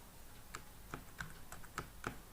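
Sparse, separate keystrokes on a computer keyboard, about seven soft clicks at uneven intervals, close but faint over a low background hiss.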